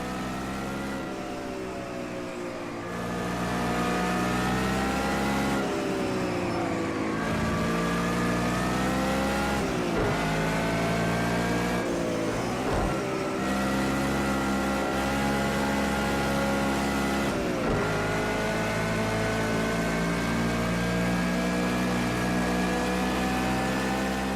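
A race car engine in Project Cars 2 drones loud and steady throughout, rising and falling in pitch as it revs through gear changes, with several brief dips where the driver shifts or lifts off.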